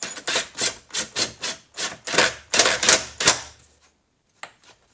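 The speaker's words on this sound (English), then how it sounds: "Alright, so I got my trusty little impact driver." A small impact driver tightens a terminal nut on a Pontiac Grand Am car battery, rattling out about a dozen quick hammering bursts in a steady rhythm, close and loud, then stopping, with one brief faint tap near the end.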